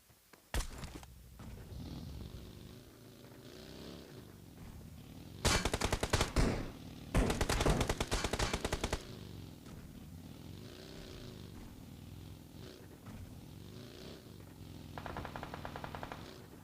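Bursts of automatic gunfire from PUBG Mobile gameplay on a Redmi Note 10S, two loud sustained volleys in the middle of the stretch and a shorter rattle near the end, over a steady game background.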